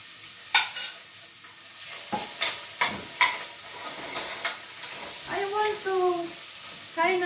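Turkey sautéing in a pan with carrots for noodle soup, close spatula strokes scrape and tap in a loose rhythm over a soft hissing sizzle, ending in a brief steamy swell.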